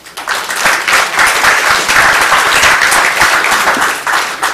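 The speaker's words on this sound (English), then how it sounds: "I'm going to ask that you please refrain from applauding or any cheering." Shareholders applaud at an Exxon shareholder meeting, a loud, close burst of many hands clapping that swells quickly and holds steady throughout.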